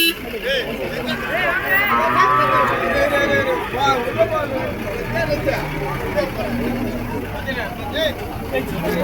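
A bull lows at a busy native-cattle market in Vaniyambadi, Tirupattur district, its calls rising over steady crowd murmur while someone talks nearby throughout.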